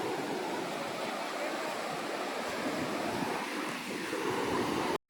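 Sea waves wash in at the Mandarmani estuary where river meets ocean, a continuous broad surf roar with wind, moderately distant and steady, cutting out briefly at the very end.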